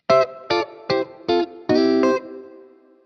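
Electric guitar through a Strymon Iridium amp pedal set to emulate a Fender Deluxe Reverb: four short clean strummed chords in a steady rhythm, then a longer ringing chord that decays into reverb tail, loud and close.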